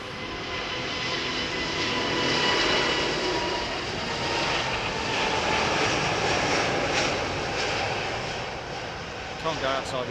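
Airliner bound for Dubai taking off from Heathrow runway 27R, a loud sustained jet roar that swells and holds steady for the whole stretch, with voices talking over it now and then.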